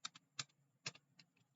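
Keys clatter on a computer keyboard in a short burst of separate clicks, with one firmer keystroke like a press of the enter key, close and fairly quiet with no voice.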